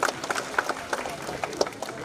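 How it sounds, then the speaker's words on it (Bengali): Applause for a women-run club at a Bengali gathering, a brief burst of clapping from a crowd with sharp irregular claps over a couple of seconds. "জোরদার হাততালি।"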